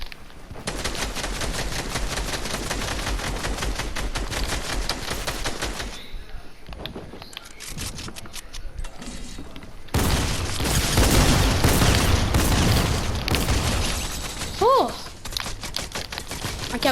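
Automatic gunfire in a video game rattles in long rapid bursts, loud and close, with heavier booming explosions later and a player talking briefly over it.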